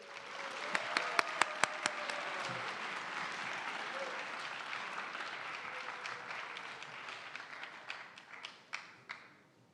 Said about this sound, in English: can we all clap and give it up for President Monroe?